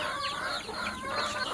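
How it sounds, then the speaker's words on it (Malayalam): Hens in a coop, ten to twenty birds, cluck and squawk in a busy overlapping chorus, close and continuous. "ഇപ്പോൾ താഴത്ത് കോഴികളൊരു 10-20 പെടക്കോഴികളുണ്ട്."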